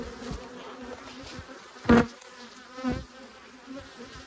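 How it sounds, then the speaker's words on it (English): A dense swarm of angry honeybees buzzes steadily around an open hive during an August inspection, with a couple of louder bees zipping close past. "So these bees are not happy to see me."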